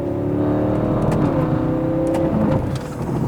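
A car engine revs steadily with a throaty exhaust note, rising slightly in pitch, close and loud throughout with no talking.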